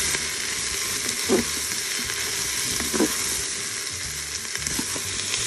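Onions and carrots sautéing in a Cookeo Touch WiFi electric multicooker, a steady loud sizzle with a few soft stirring scrapes, and no voices.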